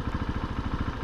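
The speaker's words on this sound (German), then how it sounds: "690 Kubik LCV-Motor" A 2019 KTM 690 SMC R supermoto's 690 cc LC4 single-cylinder engine idles with an even, thumping low pulse, close and alone.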